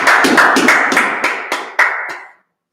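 A small group claps together in a religious class gathering, with several distinct loud, sharp clap bursts in an uneven rhythm that thin out and stop after about two seconds.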